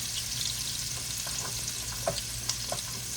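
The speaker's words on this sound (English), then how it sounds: "Because they're still frozen, but I got on that hot skillet." Frozen swai fillets fry in a hot skillet with a steady, fairly quiet sizzle and a few small pops and crackles, and no voices are heard.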